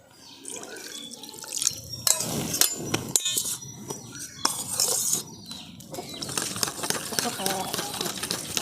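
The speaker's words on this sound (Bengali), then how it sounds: "জলটা দিয়ে আমি ভালো করে মিশিয়ে দেবো।" Semolina, curd, salt and water stirred together in a bowl with a spoon, wet sloshing and clinking scrapes in uneven bursts, with a voice talking over parts of it.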